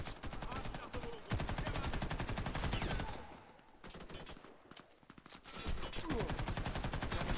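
Heavy-weapon gunfire in the online shooter Warface, with dense, rapid automatic bursts that drop briefly into quieter gaps before resuming, loud and continuous.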